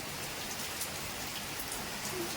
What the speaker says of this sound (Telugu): కంటిన్యూగా పడుతూనే ఉంది వస్తూనే ఉంది వర్షం వస్తూనే ఉంది